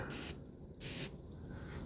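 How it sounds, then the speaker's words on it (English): A Dior Rouge Trafalgar perfume atomizer sprays onto a hand in two short, crisp hissing bursts, close and distinct, with a quiet pause between them. "I'll spray again on my hand."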